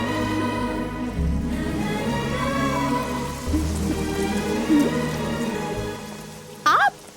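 Rain falls in a Hindi-dubbed South Indian action film, a continuous patter under a low musical drone, with a brief voice near the end.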